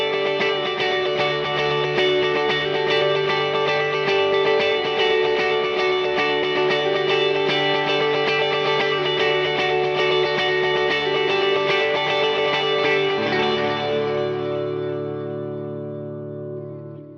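An electric guitar runs through a stereo delay effect in Two Notes Genome amp software, with dense, sustained chords smeared by repeating echoes that slowly decay and fade out at the end, with no talking.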